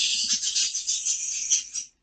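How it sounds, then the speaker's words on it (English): A dense, high-pitched chorus of crickets chirps continuously and fairly loud, then stops abruptly. "crickets."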